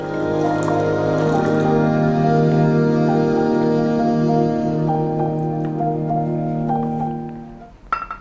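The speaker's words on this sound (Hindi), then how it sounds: "अब इसमें थोड़ा हम पानी ऐड करेंगे" Water pours into frying masala of chilli, salt and turmeric for spicy yellow rice, a close, steady rush of liquid for several seconds before it stops with a few brief clatters.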